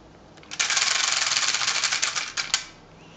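A toy slot machine wheel spins freely after a push, its pawl ratcheting in a fast, steady run of clicks for about two seconds before a final snap; close and alone.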